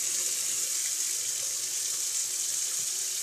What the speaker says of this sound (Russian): Сейчас нальем сюда горячей воды и вот так вот поставим